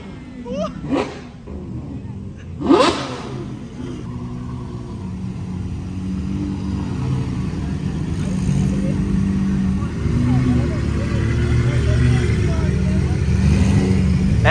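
A car engine revs through its exhaust, building from a low idle into a sustained, louder rumbling drone that grows over the second half, with a couple of sharp bursts early on and voices talking around it.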